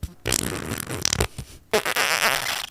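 Mouth-made fart noises, a voice imitating flatulence in two loud, sputtering bursts separated by a brief pause, close and alone with no other talk.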